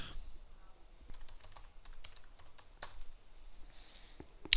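Keys tap on a computer keyboard as a password is entered, producing quiet, irregular clicks in short bursts with small pauses and a sharper click at the end.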